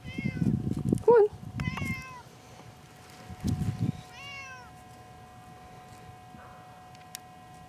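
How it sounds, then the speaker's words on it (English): Cat meowing in a few short, high, bending calls close by, mixed with bursts of low rumbling handling noise and then quieter stretches with a faint click. "Pretty cat."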